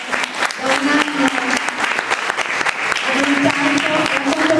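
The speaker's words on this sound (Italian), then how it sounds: "ci siamo dimenticati di fare un applauso a Filippo Leonardi" Audience applause at a village poetry event, hearty clapping from a nearby crowd with sharp individual claps audible and a voice speaking briefly over it.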